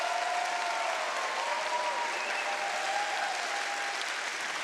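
Steady, sustained applause from an audience at a FIRST robotics district event, a continuous wash of clapping at moderate level with no speech on top.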